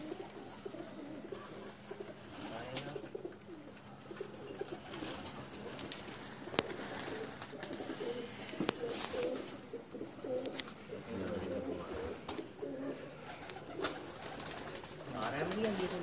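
Racing pigeons cooing at a loft: soft, low repeated coos over a steady ambient background, with faint voices in the distance.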